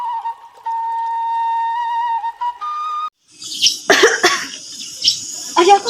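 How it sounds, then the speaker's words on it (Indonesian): After a steady whistling tone, a person coughs several times in a rough, hacking fit, close and loud. "kenapa Paduka bisa batuk dari seperti ini?"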